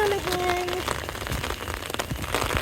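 Rain patters on an umbrella in dense, irregular taps with a few brief tonal chirps early on, under faint background sounds.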